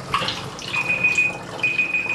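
Blix film-developing chemical is poured slowly into a tank, a close liquid trickle and splash running steadily for a couple of seconds with a thin high ring over it.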